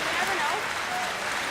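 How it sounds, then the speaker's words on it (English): The crowd at a curling match applauds steadily, a dense, even wash of clapping that lasts throughout with no pause. "A very appreciative crowd"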